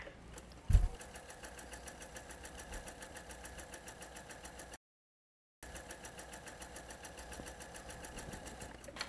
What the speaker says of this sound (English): don't take your eyes off the strip while the sewing machine is going